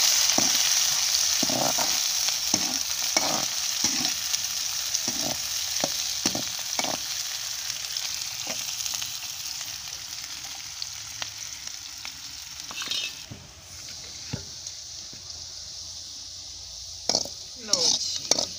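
Onions fry and brown with cumin in a hot pan, a steady close sizzle broken by repeated stirring scrapes and occasional utensil clinks against the pan.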